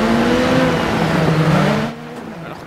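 A Ford Focus rallycross car engine in the video game DiRT 4 revs hard in a loud, sustained roar that abruptly drops away near the end.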